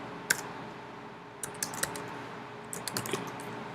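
Sparse bursts of keystrokes on a computer keyboard while configuring a Linux Debian machine, a single tap followed by two short clusters of quick clicks over a low steady hum, near and fairly quiet.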